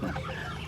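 Ducks calling as they approach, a short burst of close clucking, quacking bird calls that lasts under a second.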